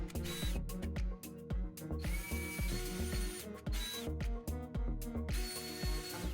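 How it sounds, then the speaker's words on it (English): Power drill boring pilot holes into a door while fitting a Ryobi Doorman light-duty domestic door closer: loud, close, stuttering bursts of motor whine with rhythmic ratcheting pulses, continuous through the clip with no talking. "Next I drill some pilot holes on the door using the template as a guide."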